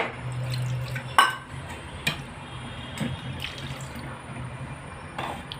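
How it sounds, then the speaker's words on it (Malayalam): Water trickles and splashes into a cooking pot for a fish curry, with a few sharp metallic clinks of utensils against the vessel. "അത് ആവശ്യത്തിനുള്ള വെള്ളം ഒഴിച്ചു ആവശ്യത്തിനായിട്ടില്ല ഇത്തിരി കൂടി വെള്ളം വേണം"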